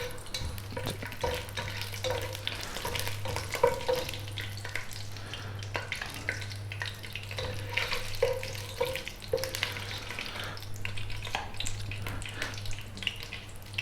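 Cinnamon, cloves and bay leaf sizzle in hot oil in a biryani pan, a soft continuous frying hiss with scattered light crackles and a low steady hum underneath, nearby and fairly quiet.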